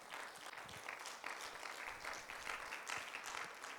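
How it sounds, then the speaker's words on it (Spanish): Church congregation gives a sustained round of applause at the close of a service, dense clapping steady and loud throughout with no speech. "puede darle una ofrenda de aplausos al Señor."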